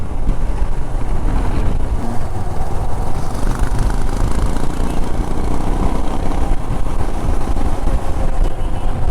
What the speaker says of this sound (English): lots of wind blast.